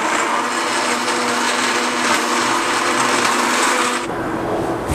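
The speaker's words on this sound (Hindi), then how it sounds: "इसको भी मैं अच्छी तरह ग्राइंड कर लूँगा।" A countertop blender grinds ice for a mango piña colada, a loud, steady, harsh whir that runs the whole clip and shifts tone slightly near the end.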